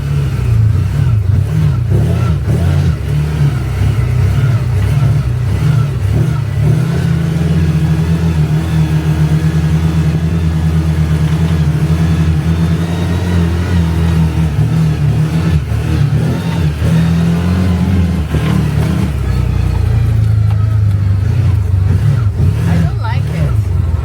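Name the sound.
CFMOTO UForce 1000XL engine accelerating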